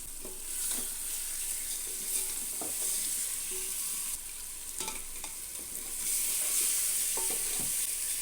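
Prawns frying in a pan for biryani give a steady, moderate sizzle with occasional stirring scrapes throughout, close by and without talk.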